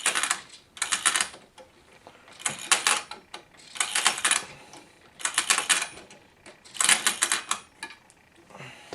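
A Marx wind-up toy train mechanism being wound, repeated bursts of rapid ratcheting clicks in about six even strokes with short pauses between.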